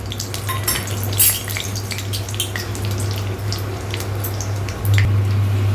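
Potatoes frying in mustard oil with panch phoron and dried red chillies in a pan, a steady loud sizzle with occasional stirring clinks of a utensil, no voices.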